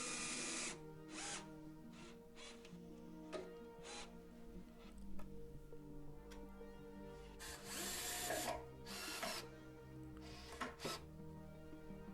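A power drill whirs in several bursts of varying length, driving self-tapping screws into a shelf bracket inside a cupboard, with short pauses and faint clicks between runs, close by.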